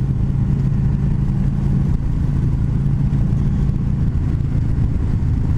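A 2020 Harley-Davidson Street Glide Special FLHXS with a Milwaukee 8 engine cruising on the road, its steady, smooth low engine rumble continuous and close alongside wind noise throughout.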